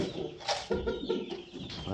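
A young rooster chick hatched at the end of May, clucking and making short throaty calls nearby, a few brief vocalizations with no speech.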